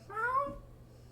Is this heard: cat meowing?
yes